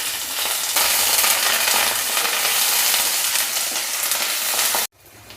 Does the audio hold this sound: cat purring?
no